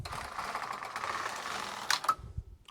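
A knitting machine carriage sweeps across both needle beds knitting a zigzag row, giving a continuous mechanical swish that ends with a few sharp clacks as it stops, close and moderately loud.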